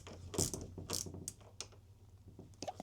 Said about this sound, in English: This ratchet works great for this guy.